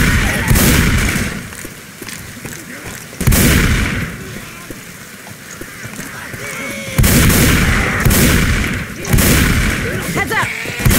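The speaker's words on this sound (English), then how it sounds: "What in the hell just shot me?" Gunfire and explosive bursts from Left 4 Dead 2, The Passing campaign, come in loud repeated volleys with brief lulls between them, with player voices talking over the shooting.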